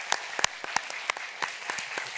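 Sparse, scattered applause at a game industry conference, a handful of distinct claps spread over two seconds, close and fairly quiet, with no voices.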